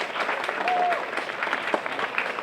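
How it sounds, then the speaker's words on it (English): A school audience of administrators claps in a steady round of applause, moderately loud and continuous throughout, with a faint voice mixed in. "So give them a round of applause."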